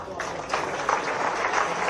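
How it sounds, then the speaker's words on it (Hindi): A crowd applauds at a government welcoming ceremony honouring a champion women's cricketer, a continuous wash of clapping with a voice heard over it. "एक बार जोरदार तालियां।"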